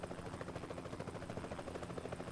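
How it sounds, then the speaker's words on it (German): Helicopter flying in Euro Truck Simulator 2, near Florence, a steady rhythmic rotor thump with a dense whirring drone, constant and moderately distant for the whole stretch. "Da fliegt ein Hubschrauber."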